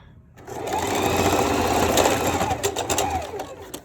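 A sewing machine stitches over fabric while a stretchy one-piece garment is being made, its motor whirring steadily and close for a few seconds before it slows and stops.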